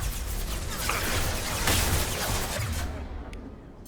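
A heavy, booming Impact Shot ability fires in Mass Effect Legendary Edition, a single dense blast that swells over a couple of seconds and then decays into a fading tail.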